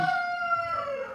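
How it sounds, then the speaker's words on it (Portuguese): A rooster crows once nearby, a loud drawn-out call that slides downward at the end, heard alone. "Não tem como fazer o galo calar, não."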